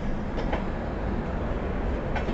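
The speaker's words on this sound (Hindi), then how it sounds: "अभी ट्रेन फिर से निकल गई है" LHB coach express train rolling along the rails as it pulls away, a close, steady rumble with faint wheel clicks and no talk.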